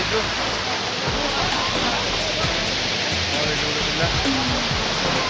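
A waterfall roaring as a broad, steady rushing wash of water noise, loud and continuous throughout the short stretch, with people talking over it.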